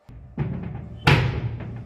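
A WPC (wood-plastic composite) door is banged hard to test its strength: a soft knock, then a dull thud, then a louder, sharper bang that rings briefly.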